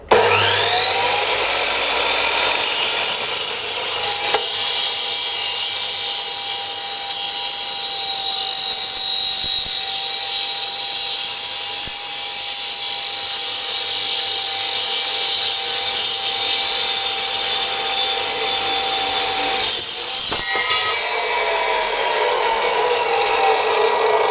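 A loud, high-pitched power tool whines steadily as it cuts through an 89 mm metal exhaust pipe for a long stretch, then briefly changes pitch near the end before continuing.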